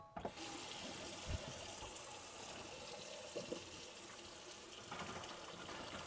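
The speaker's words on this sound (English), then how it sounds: "That is your hot water system working there." Hot water flows steadily from a tap in an Adria Coral Supreme 670SL caravan, a soft continuous splashing stream at moderate distance with no talking.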